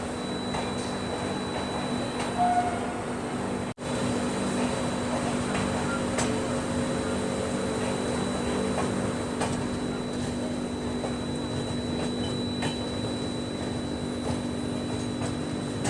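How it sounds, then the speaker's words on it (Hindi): The Kanyakumari Express pulls out of Tirunelveli station, giving a steady, even rumble and hum from inside the moving coach, with a brief dip in the noise early on. "तो तिरुनेल वैली रेलवे स्टेशन से अपनी ट्रेन निकल चुकी है।"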